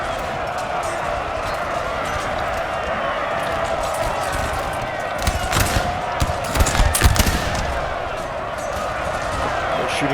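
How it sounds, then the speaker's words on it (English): Musket volleys crackle in a Napoleon Total War battle at Tarutino in 1812, distant scattered shots over a constant battlefield roar, with someone talking throughout. "Shooting going on there"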